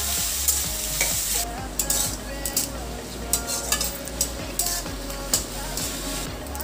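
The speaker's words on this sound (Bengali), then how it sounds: "পেঁয়াজটা লাল লাল করে ভেজে নেব।" Sliced onions fry in oil in a pan for a wedding-style katla fish kalia, a steady sizzle punctuated by regular metal spatula scrapes and clinks against the pan, close and without talking.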